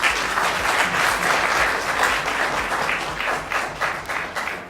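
Audience applause at a literature festival session, a continuous wash of many hands clapping, loud and sustained before tapering slightly at the end.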